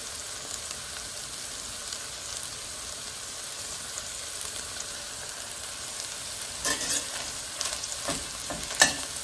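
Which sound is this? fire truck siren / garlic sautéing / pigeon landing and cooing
garlic sautéing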